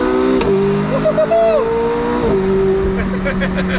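A McLaren sports car engine drones loudly and shifts pitch as it revs, with sharp exhaust crackles popping through; no speech.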